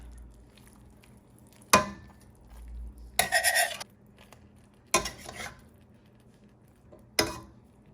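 A fork scrapes and taps in a pan as jerk sauce is spread over simmering oyster mushrooms, several distinct metallic clinks and a brief scraping burst over a quiet background sizzle, with no voices.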